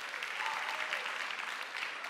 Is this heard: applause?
yes